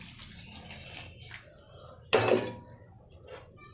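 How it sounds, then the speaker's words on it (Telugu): Water poured into a pressure cooker holding dal with a little turmeric for nalleru chintha chiguru pappu, heard as a short, close splashing gush after soft running water and kitchen clatter. "తర్వాత తగినంత వాటర్ వేసుకోవాలండి."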